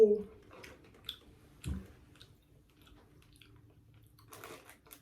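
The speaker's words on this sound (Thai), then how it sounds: "เดี๋ยว ต่อไปเราขอชิมด้วยนะ ข้าวผัดปู" Crab fried rice is eaten at a crab restaurant, with a few sparse, close crunchy bites and soft chewing spread across a quiet stretch.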